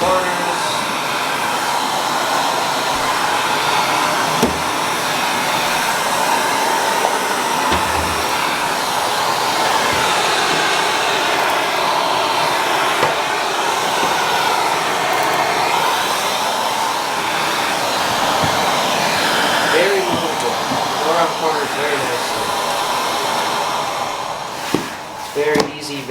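A vacuum cleaner runs continuously with its floor tool, a loud, steady whooshing drone lasting the whole time, shifting slightly as the head moves, with a person talking over it.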